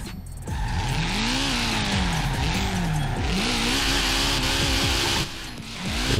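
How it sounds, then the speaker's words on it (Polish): A car drifting in Forza Horizon 4 after building up to about 100 km/h: a loud, steady engine roar whose pitch swoops up and down with revs, tires squealing continuously over it, with a short dip near the end. "rozpędzam się tam ze 100 km na godzinę, wchodzę w ten drift"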